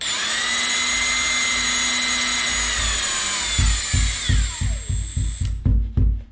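A power drill drilling into a drywall wall whines steadily at high pitch, then gives way to a run of rhythmic thumping pulses as the motor winds down.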